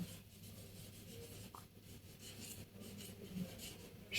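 Pen scratching across paper while a math solution for a school exam problem is written out, a soft continuous rasp of strokes with small pauses, close and quiet, no voices.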